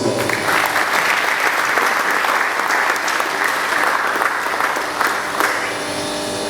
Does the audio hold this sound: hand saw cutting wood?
no